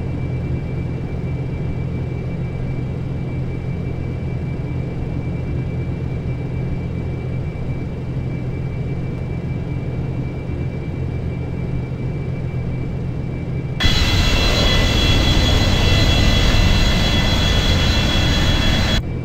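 Aircraft engine in the X-Plane 10 flight simulator game, a steady droning jet hum with a constant tone, jumping abruptly to a louder, harsher roar near the end.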